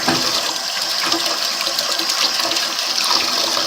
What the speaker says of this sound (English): I'm gonna put some more water in here.